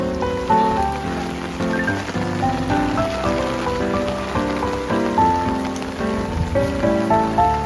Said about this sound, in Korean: 비가 이렇게 많이 온다고?